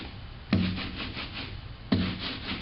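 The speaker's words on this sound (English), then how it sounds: "I try to create a Velcro kind of noise with my ink" An ink brayer rolls back and forth through printing ink, making a sticky, crackling, Velcro-like rasp. Two sharper strokes begin the passes, and a continuous tacky rubbing fills the space between them.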